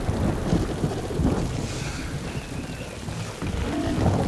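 Heavy rain hisses steadily in House of the Dragon while low thunder rumbles underneath, a dense stormy wash with swelling rolls and no voices.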